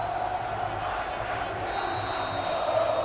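A football stadium crowd at a Campeonato Carioca match between Olaria and Vasco in Macaé, a steady, dense roar of chanting and shouting filling the background, with faint commentary over it.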